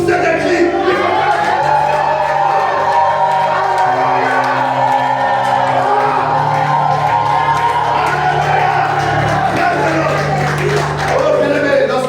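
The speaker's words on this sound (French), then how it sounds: "Alors nous allons encore pousser des cris." A church congregation shouts and cheers loudly for a sustained stretch, with whoops, scattered clapping and overlapping voices forming a dense, continuous roar.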